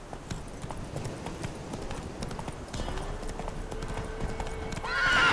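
Hooves of Roach, the horse in The Witcher 3, clip-clop in a steady trotting rhythm across a continuous outdoor ambience, with a brief whinny-like tone rising near the end.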